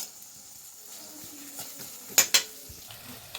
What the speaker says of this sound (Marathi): कांदो आणि मिरची मम्मीने फोडणीत घातल्या ना